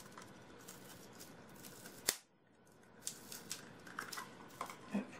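Scissors cutting a small piece of ribbon, one sharp close snip followed by quieter light clicks and rustles of handling.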